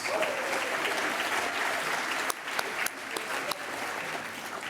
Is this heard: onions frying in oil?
no